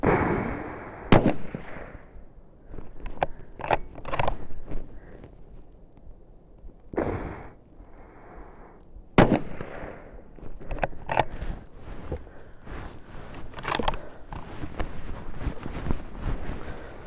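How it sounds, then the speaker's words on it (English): A sniper rifle fires during barrier shooting practice: two loud, sharp shots with echoing tails several seconds apart, separated by quieter clicks and handling noises. "different types of barrier shooting"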